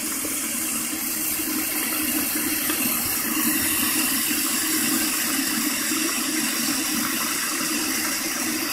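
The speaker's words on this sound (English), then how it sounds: "you want to add your water in your pot" Steady running water pours continuously into a pot of potatoes, a broad even rush like a tap filling a pot, with no talking over it.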